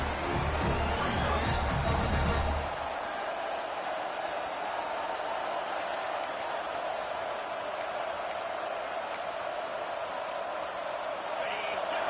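A video game college football stadium crowd roars steadily throughout, the Utah student section on third down. A deep rumble underneath drops away after the first couple of seconds, leaving a sustained, even wash of cheering.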